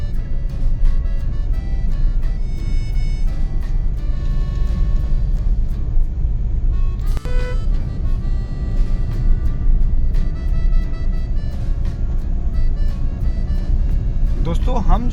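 A Maruti Suzuki WagonR drives along a busy single-lane road, its constant engine and tyre rumble running throughout beneath ongoing talk.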